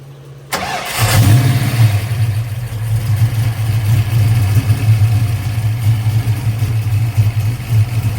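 A car engine catches after a quiet moment and cranks into life, then settles into a loud, steady, rumbling idle close by with slight rises in revs, and no voices over it.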